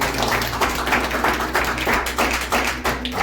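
A church congregation claps for Jesus in a steady, rhythmic beat. The many hands are loud and close, with no voices over them.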